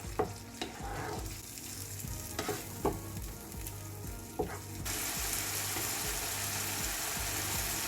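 Masala cooking in a frying pan as salt is stirred in, a continuous sizzle punctuated by regular spoon scrapes and taps, the frying growing denser and louder toward the end, with no speech.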